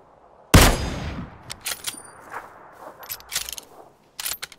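Sudden loud gunshot opens a PUBG match moment, followed by scattered fainter shots and clicks in the distance, with quiet pauses between and occasional team voice chatter.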